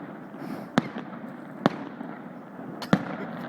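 Fireworks at a Shymbulak salute display burst low overhead: three sharp, separate booms spaced a second or so apart over a steady outdoor background hum.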